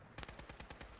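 Rapid automatic gunfire in Fallout 4, shooting at a vertibird: a quick run of about eight evenly spaced loud shots, close and alone.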